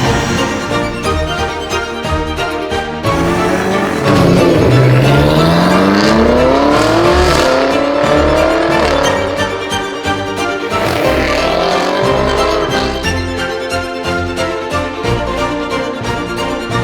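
A BMW X5M F85 drives past with a loud engine note that rises and sweeps as it accelerates, then fades and swells again, with no talk.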